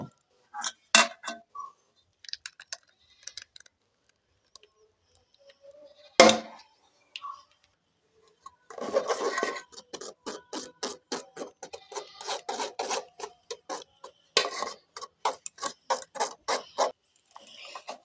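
Tomato paste being pressed and strained through a pot lid in a home kitchen, giving a run of quick rhythmic metallic scraping rasps, close and fairly loud, after scattered clinks and a single sharp knock.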